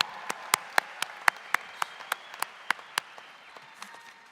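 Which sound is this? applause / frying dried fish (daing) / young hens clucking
applause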